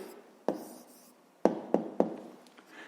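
Pen writing an answer by hand on paper for a 5th-grade math exercise, a few sharp taps and short scratchy strokes spaced irregularly, close and clear in a quiet room.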